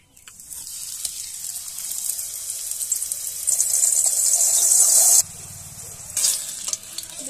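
Oil is poured into a hot wok while making masala paratha and hisses on its own. The sizzle builds and grows louder for a few seconds, then cuts off abruptly and drops to a softer crackle.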